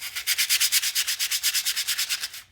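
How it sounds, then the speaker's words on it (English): Coarse sandpaper rubs grit off a surface in quick, even back-and-forth strokes, about two dozen rhythmic scratchy passes, close and clear with no talking. "Another way is to just sand the grit off. With a coarser piece of sandpaper."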